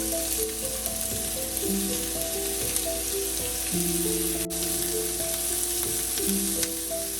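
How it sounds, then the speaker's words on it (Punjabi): Onions sizzling in hot oil with cumin and a pinch of asafoetida for a Punjabi arbi dish, a loud continuous frying hiss alongside steady tonal humming, no voices. "ਜੀਰਾ ਵੀ ਸਾਡਾ ਹੋ ਗਿਆ ਜੀ ਹੁਣ ਅਸੀਂ ਇਹਦੇ ਵਿੱਚ ਪਿਆਜ਼ ਪਾ ਦਵਾਂਗੇ"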